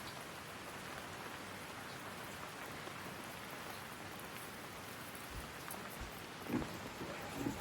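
Steady rain falls outdoors in Sydney in a chicken yard, a continuous soft hiss of drops throughout, with a couple of faint louder patters near the end.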